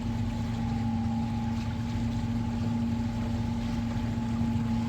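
Steady hum of an electric boat motoring at speed on open water near North Haven Island, with a constant tonal drone and water rush, unbroken for five seconds.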